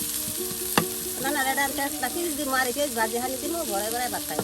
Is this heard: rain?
no